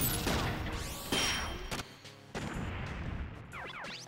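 A missile launcher blown up in a video game, heard as sharp, loud blasts and crashing impacts in quick succession, with mechanical whirs and sweeping synthetic tones between them.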